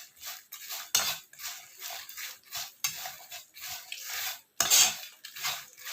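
Dried chilies dry-roasting in a pan, stirred with a metal utensil that gives repeated scraping strokes against the pan in an uneven rhythm, close and fairly quiet, with only a faint crackle underneath.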